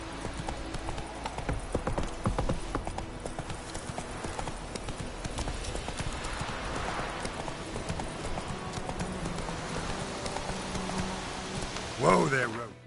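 Hooves of the horse Roach clip-clop steadily through The Witcher video game, a continuous mid-distance trot over rain-like ambience, with a brief louder burst near the end.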